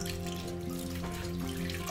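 Water runs steadily into a pan holding soy sauce and brown sugar, with a continuous splashing trickle, close by and at moderate volume.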